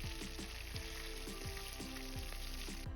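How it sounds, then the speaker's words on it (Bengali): Whole cumin, dried chillies, cardamom and cloves sizzle in hot oil for a chicken curry, giving a steady close crackle with many sharp pops and spits. "তেলটা গরম হয়ে গেলে তেলের মধ্যে ফোড়ন দিয়ে দেব"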